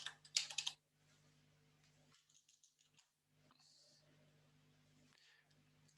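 Short burst of computer keyboard typing, a quick cluster of clicks near the start, followed by quieter faint keystroke-like ticks over a low steady hum.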